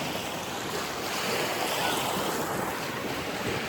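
Sea waves wash up onto the rocks at Daman in a continuous rushing surge, steady and fairly loud, with gusty wind buffeting the microphone.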